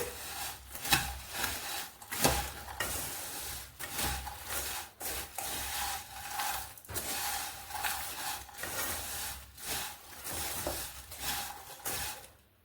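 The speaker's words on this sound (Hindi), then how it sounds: "अब सभी चीज़ों को अच्छे से मिक्स कर लेंगे चलाते हुए" Homemade namkeen snack mix being stirred and tossed together, giving a steady dry rubbing and scraping with frequent sharp clinks of a utensil against the dish, close and moderately loud with no talking.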